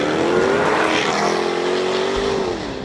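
A Jaguar F-Type V8 S engine revs hard under throttle, a loud, continuous, raspy roar with rising pitch that dips slightly near the end, close and without speech.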